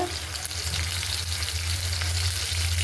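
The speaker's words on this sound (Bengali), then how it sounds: "আমি আগে তেল দিয়ে দিচ্ছি এখন দিয়ে দিতেছি পেঁয়াজ কুচিটা" Chopped onion sizzles in hot oil in a pan, a steady close crackle and hiss that runs evenly throughout with no voices.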